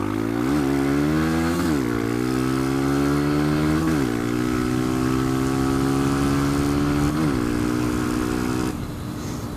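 A 125cc motorcycle engine drones steadily while riding on a dual carriageway, loud and close, with harmonic pitch rising and falling through several gear changes and wind noise throughout.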